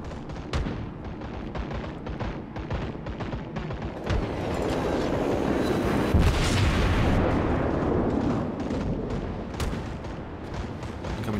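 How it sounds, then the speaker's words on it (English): Main guns of the German battleship Tirpitz fire in World of Warships, with repeated sharp cracks over a steady rumble that swells into a long, heavy roar midway before the shots resume. "Operating guns right now."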